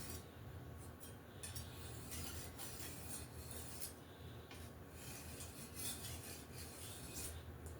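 Kitchen knife stroked repeatedly across the fine side of a sharpening stone, making faint, steady, rhythmic scraping rasps with no talk.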